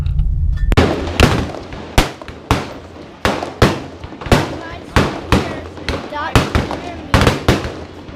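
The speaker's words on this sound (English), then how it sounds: "But now we're shooting my brother's gun." A brother's handgun firing at an outdoor shooting range, about a dozen loud sharp reports at irregular intervals of roughly half a second to a second, each with a short decaying echo.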